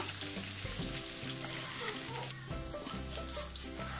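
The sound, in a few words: sautéing chicken masala with garam masala in a pan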